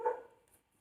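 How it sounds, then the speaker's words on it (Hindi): A dog barks outside at night, a single short bark at the very start that quickly trails off into near silence, moderately loud and slightly distant. "रात बहुत हो चुकी है, बाहर कुत्ते भौंक रहे हैं भाई।"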